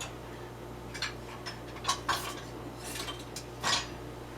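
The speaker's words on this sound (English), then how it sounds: "So let's grab a knife and cut into it." A knife cutting through coconut cookie bars in a half-sheet pan, heard as scattered scrapes and taps of metal on the pan, fairly close and quiet, with no voices.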